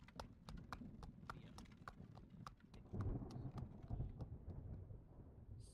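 Horse hooves clip-clop at a steady trot while riding in the video game Travellers Rest, with crisp, evenly spaced hoofbeats over a low rumbling background.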